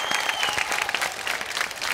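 An audience applauds briefly to welcome a judge onto a Hindi reality show stage, a dense, steady patter of many hands clapping at moderate volume.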